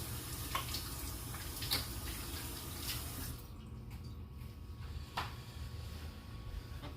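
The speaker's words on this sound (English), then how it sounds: "Wash my hands because that stuff's sticky." Hands washed under a running tap at a sink, a steady close rush of water that changes tone partway as the hands move through the stream.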